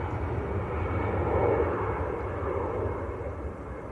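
A Virgin airliner lines up on the runway at Manchester Airport, its jet engines giving a steady, broad rumbling roar heard at a distance, swelling slightly midway and holding even, with no talk over it.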